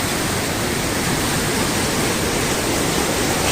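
Mountain water in the Pyrenees rushes steadily below, a loud, dense, unbroken roar like a close torrent or waterfall.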